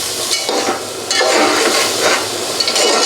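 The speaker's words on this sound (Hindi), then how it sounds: "और दही डालकर भी थोड़ा सा और भूनेंगे।" Mutton yakhni with added yogurt sautés in a pot for degi pulao, giving a loud, close, continuous sizzle with scraping stirring strokes that swell and ease as a spoon moves the meat around.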